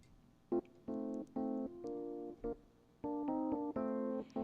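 Dry electric piano part without EQ or compression, short chords and stabs in an uneven rhythm with gaps between them, fairly quiet and clean, with no voices.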